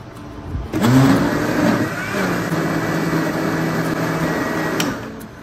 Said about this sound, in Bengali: এখন রসুনগুলো আমি ব্লেন্ডার করে নিচ্ছি।